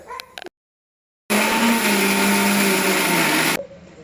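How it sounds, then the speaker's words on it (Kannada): A kitchen mixer grinder whirs loudly and steadily for about two seconds, grinding fried masala and greens for chicken biryani. Brief quiet handling noises come before and after it. "ಇವಾಗ ಆರಕ್ಕೆ ಇಟ್ಬಿಟ್ಟು ಗ್ರೈಂಡ್ ಮಾಡ್ಕೊಬರೋಣ"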